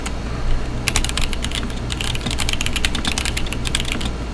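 Rapid typing on an M65-A mechanical keyboard fitted with smooth Tealios switches, crisp close keystrokes in quick irregular bursts over a low steady background hum.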